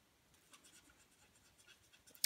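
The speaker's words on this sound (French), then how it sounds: "On repasse vraiment dessus jusqu'à temps qu'il n'y ait plus de marque." A colouring pen is rubbed back and forth over a card to cover a mark, making faint, close, papery scratching strokes with a sharper tap at the end.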